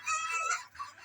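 Chickens on a poultry farm clucking in a busy cluster, with layered overlapping calls and a sharper crow-like cry rising among them, close and fairly loud.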